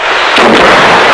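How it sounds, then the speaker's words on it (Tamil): A single loud firecracker bang bursts close by, a sharp crack followed by a broad, roaring wash of noise that fills the rest of the moment. "இப்ப வெடி வெடிச்சது அந்த சத்தம் கேட்கலையான்னு கேட்டேன்"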